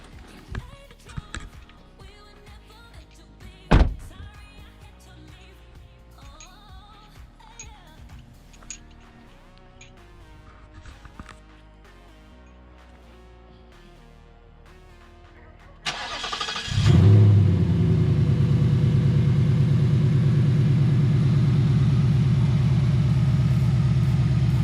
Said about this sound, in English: I'm gonna step out right after I start the car. And we're about to hear how this sounds.